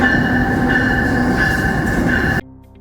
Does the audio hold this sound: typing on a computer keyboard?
no